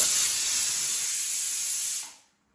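A loud, steady hiss of steam jetting from a pressure cooker for about two seconds, then cutting off abruptly into silence.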